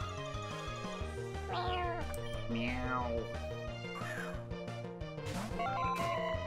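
A cat Pokémon's cry in the video game Pokémon Uranium, a couple of short rising electronic meows standing out over steady, loud chiptune-style game music.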